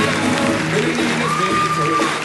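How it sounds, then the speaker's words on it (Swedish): A large Stockholm Live crowd claps loudly and continuously for comedian David Batra as he takes the stage, a thick wash of applause with a high whistle-like tone rising briefly near the end. "Ge en stor applåd till mannen David Batra!"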